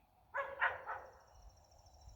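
A dog barks three times in quick succession, distant and muffled, followed by quiet outdoor ambience.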